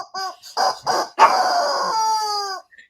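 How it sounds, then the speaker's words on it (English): Rubber chicken toy squeezed a few times, giving short honking squawks followed by one long wheezing screech that trails off, close and loud with no talking. "Rubber chicken."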